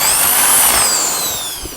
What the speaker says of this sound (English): I think my drill's getting a bit tired.